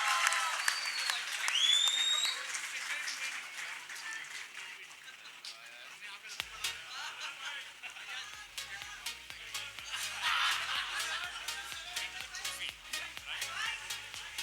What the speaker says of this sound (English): everybody please put your hands together